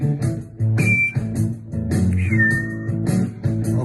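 Palatal whistling, two bright sustained whistled notes, the second sliding down into a long held tone, heard over loud, busy background music with a thumping beat.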